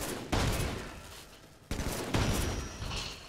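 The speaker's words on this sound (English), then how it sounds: "I'm gonna shoot all four of the white twice so that they explode." Halo 5 in-game gunfire at targets: two loud sustained bursts of rapid shots, each fading before the next, with no speech.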